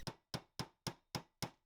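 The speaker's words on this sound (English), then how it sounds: "What I'm peening here is some steel sheet metal to the open sides of some brass C-channel to complete a 5-sided metal box" A peening hammer strikes steel sheet metal being peened onto brass C-channel to form a metal box, giving six sharp metallic taps at a steady rhythm, faint and close with short ringing decays.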